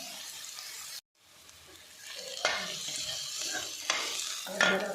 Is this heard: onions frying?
yes